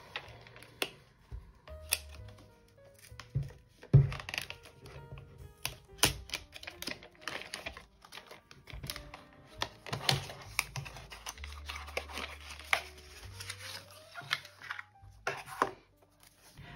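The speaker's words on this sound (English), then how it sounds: "Now let me open the box." The plastic case of a Derwent Inktense paint set is handled and opened, giving close, sharp clicks, taps and light rattles in an irregular sequence with quiet gaps.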